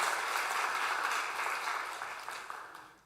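Church congregation applauding during a Sunday service, a steady wash of hand clapping from many people that holds evenly and then thins and fades toward the end.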